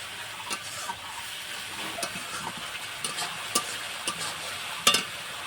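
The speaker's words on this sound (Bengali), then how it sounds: "দেব সামান্য চিনি, হলুদ দিয়ে মশলাটা আমি ভালো করে একটু কষিয়ে নেব।" Spice paste with sugar and turmeric frying in a pan while being stirred, a steady soft sizzle broken by sharp spoon scrapes and taps, close and fairly quiet, with no talk.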